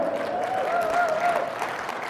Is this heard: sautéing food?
no